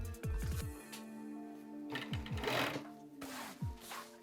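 Sewing machine stitching a neck strip seam on a basketball jersey, running in three short close bursts separated by brief pauses, with the motor whirring up and down each time.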